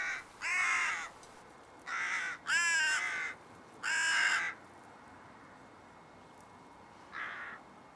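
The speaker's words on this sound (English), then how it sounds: "This got the rest of the birds riled up a bit." Agitated crows call outdoors on a hill, with four loud harsh caw bursts in close succession and a fainter fifth one after a pause, over steady background noise.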